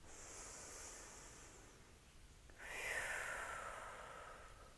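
Children breathe out softly in two long, gentle whooshes imitating calm ocean waves during a kindergarten and first-grade yoga class, faint and airy with a short pause between them.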